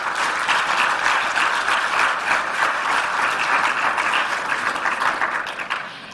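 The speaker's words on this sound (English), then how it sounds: "Let's give His Excellency another warm round of applause" A governance school launch audience gives His Excellency a warm round of applause, a dense, steady wash of many hands clapping that holds loud throughout and eases slightly at the end.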